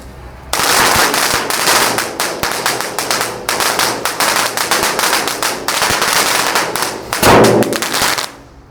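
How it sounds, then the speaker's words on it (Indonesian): A Beauty Fountain firework lit indoors, crackling loudly and continuously for about eight seconds with dense rapid pops and snaps, then cutting off abruptly. "Ini yang pertama ada Beauty Fountain air mancur pratek bola warna-warni. Oke, sudah menyala teman-teman."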